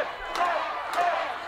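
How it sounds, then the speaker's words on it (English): A wrestling crowd at a Progress Wrestling championship match chants loudly in unison, a rhythmic roar of many voices filling the arena in two rising swells. "Crowd chanting to tap again."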